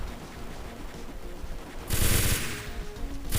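Burst of automatic gunfire in the battle royale game HeyHa Royale, a loud sustained volley breaking in partway through and returning at the end over a quieter game background.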